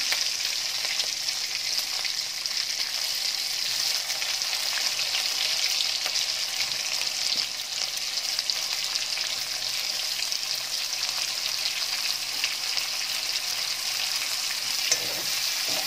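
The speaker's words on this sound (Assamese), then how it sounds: "পিয়াজখিনি মই ৰঙা হোৱালৈকে ভাজিব লাগিব এতিয়া" Onions frying in oil for a spicy chicken curry, an even, continuous close sizzle and crackle that stays constant throughout with faint stirring and no speech.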